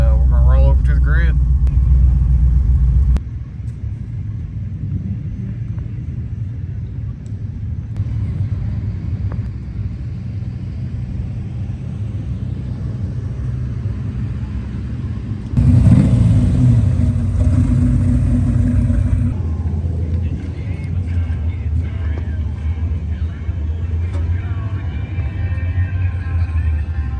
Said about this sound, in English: So get this truck warmed up a little bit, and we're gonna roll over to the grid